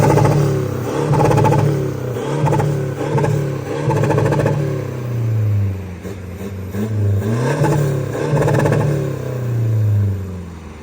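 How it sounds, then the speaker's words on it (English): A Toyota Hilux GR engine revs hard and repeatedly bangs off a hard rev cut, loud and close, with rising and falling surges and no talking. "Have you ever heard a Hilux sounding like this?"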